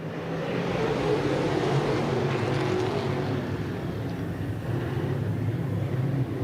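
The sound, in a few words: IMCA late model race cars racing on dirt speedway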